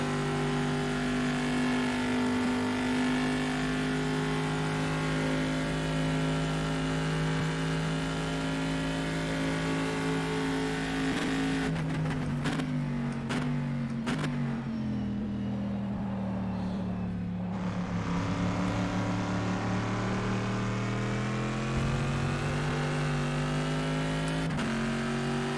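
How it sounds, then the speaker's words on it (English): Race car engine at Le Mans in the racing sim rFactor 2, a loud sustained high-revving drone with a rapid burst of gear shifts and a dip in pitch midway before climbing again. "I freaking love the sound of this car."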